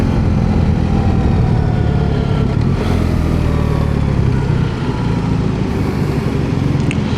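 A BMW R1300 GS Adventure motorcycle engine drones loudly and steadily while riding, with continuous wind rumble and slight shifts in pitch as the throttle changes, heard close and with no talk.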